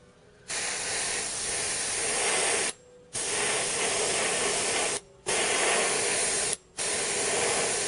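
An airbrush sprays weathering paint onto a terrain model building, giving a steady close hiss in three long bursts with brief silent pauses between them.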